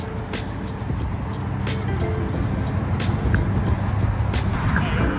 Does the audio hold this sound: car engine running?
yes